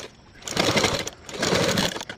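A sewing machine stitches the placket of a blouse, with two close, loud bursts of rapid mechanical whirring separated by a short pause.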